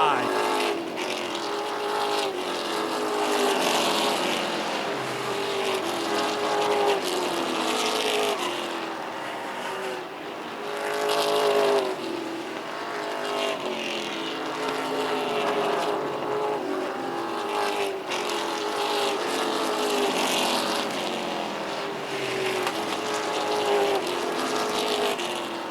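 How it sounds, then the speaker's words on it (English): Short-track stock cars race around an oval in a weekly racing series, a continuous roar of engines with repeated swelling passes while a commentator talks steadily over the noise throughout. "Chad Dow drives out around the 15 of Frank Moulton, put the number 39 car up into the top 5"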